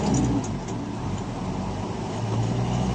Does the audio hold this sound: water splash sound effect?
no